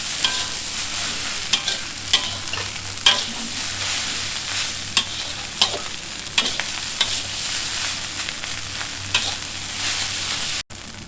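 Nasi goreng with prawns sizzles steadily in a hot pan while a spatula stirs and scrapes in frequent sharp clacks, close and alone without voices.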